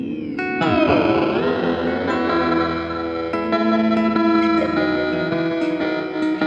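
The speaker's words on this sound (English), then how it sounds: "Very bell-like is what ring mod is." A guitar played through a ring modulator pedal, the Asheville Music Tools ACV-NOS, rings out with metallic, bell-like tones, chords sustaining and shifting with a shimmering, warbling edge.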